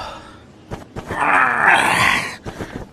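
Bajie, a pig character in an animated Journey to the West story, lets out a long, drawn-out yawn that swells in the middle and trails off, loud and close, with small breathy sounds before and after.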